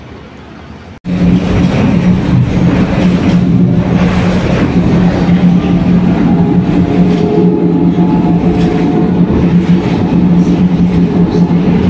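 Riding a tram: after a brief quiet moment, loud steady rolling rail noise and motor hum fill the car, with a continuous rumble and faint squeals.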